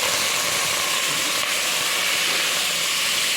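Shrimp sautéing in a hot pan, a steady, loud, close sizzle of dense hiss that holds unbroken throughout.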